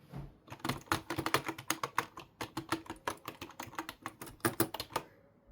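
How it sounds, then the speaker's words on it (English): Crisp, clicky keystrokes of a digital typewriter with vintage-style feel, tapped in a quick irregular stream of about thirty distinct strikes, close and clear with no talking. "This is a digital typewriter."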